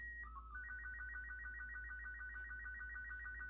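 SSTV image signal played back from cassette tape: a steady, faint electronic warble that alternates rapidly between two tones in a regular rhythm, over a low tape hum.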